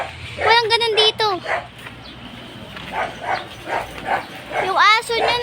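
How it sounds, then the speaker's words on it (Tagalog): A dog barks in loud bursts at the start and again near the end, with outdoor noise and voices talking in between. "Yung aso niya nakawala."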